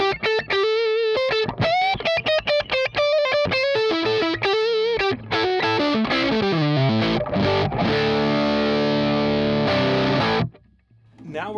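Distorted electric guitar played through a Chandler Limited GAV19T amp on the rhythm pickup: a loud run of quick picked notes, then sustained ringing chords that fade out at the end.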